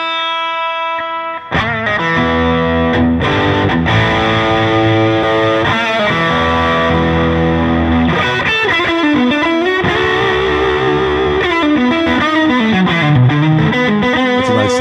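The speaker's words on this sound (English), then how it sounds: "Here's the overdrive on the amp." Overdriven electric guitar played straight out of the box through an Orange amp, a thick, sustained distorted tone with ringing chords and shifting riffs, loud and continuous for the whole stretch after a brief quiet start.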